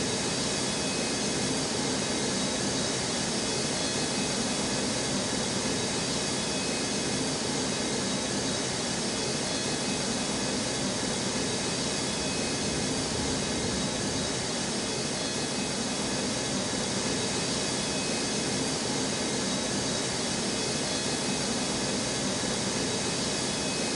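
Jet aircraft roar steadily on the runways at Newark airport in snow, a loud, unbroken broadband engine rush that holds level throughout with no voices.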